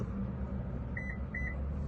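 A Toyota car gives two pairs of short, high beeps during key fob programming, heard over a steady low hum inside a vehicle.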